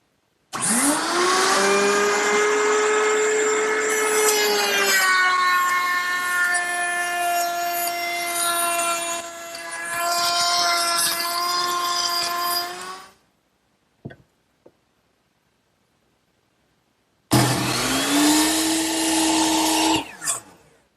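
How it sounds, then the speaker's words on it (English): A router table cuts wooden molding for a hutch. The motor whines loudly and steadily as the bit chews through the wood, spins down into silence, then starts up again with a rising whine. "I've got it set up in my router table, and it's ready to go."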